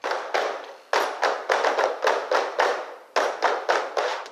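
A percussion group seated at a table claps hands and taps on overturned plastic cups, making crisp, loud, evenly rhythmic hits in a steady repeating pattern with no talk.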